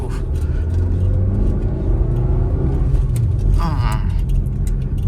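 A car climbs a steep hairpin road toward Kattadikadavu in Idukki, held in first and second gear. The engine drones steadily and close for the whole stretch, with some talk over it.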